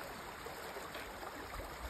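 Fast, deep creek water rushes beneath a bridge at Alley Creek, a steady, faint broadband wash with soft gurgles, no voices present.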